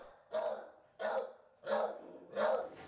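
A small chihuahua barks in four evenly spaced, sharp yaps at close range, each a short burst with a brief pause between, with no one speaking over it.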